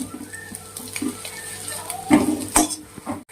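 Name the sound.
stir-frying carrot and cabbage for egg fried rice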